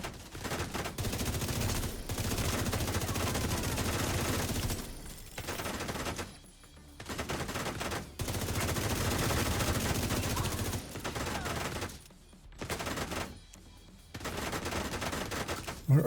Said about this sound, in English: Where are these shots even?